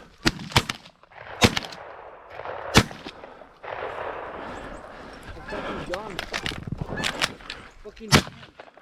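Sharp gunshots from hunters firing in a snowy field during a blizzard, about seven loud cracks scattered irregularly, some in quick pairs, with excited voices talking between and under the shots.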